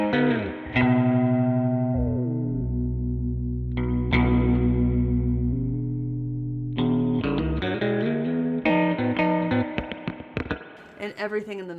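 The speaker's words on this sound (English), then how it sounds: "We start to get those kind of bell-like tones." Sustained metallic, bell-like tones with clangy overtones ring out from an instrument processed through a ring modulator, shifting pitch across several struck notes.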